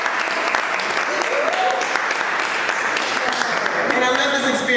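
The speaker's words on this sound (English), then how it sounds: "give them a round of applause" An audience at a soulful music event bursts into steady applause, dense clapping holding throughout with a few voices and cheers mixed into the crowd noise.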